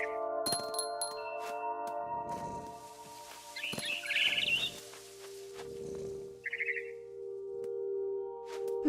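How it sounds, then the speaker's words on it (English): A barn swallow chirps outside a window in What Remains of Edith Finch, giving brief bursts of high twittering calls around the middle and again later, moderately close, over a steady hum of game ambience and scattered clicks. "Then I heard chirping outside my window. It was a barn swallow going back to her nest."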